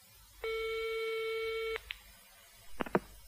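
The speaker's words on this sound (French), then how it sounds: "La secrétaire d'Éric Blanc téléphone à une agence de voyage." A telephone call signal as a secretary phones a travel agency: one long steady electronic tone, then a few short faint beeps, clear against near silence.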